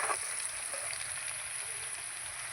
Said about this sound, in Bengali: এই যে লাল লাল করে ভেজে নিয়েছি